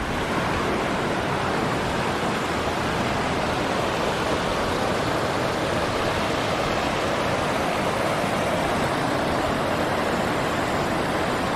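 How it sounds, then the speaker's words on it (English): Water cascading over granite slabs along a high Sierra creek near Junction Meadow, a loud, continuous broadband roar holding steady throughout with no voices. "Beautiful water cascading over granite slabs."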